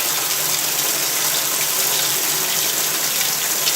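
Water runs steadily from a tap into a container while an aquarium tank drains, a constant close gushing rush with no speech.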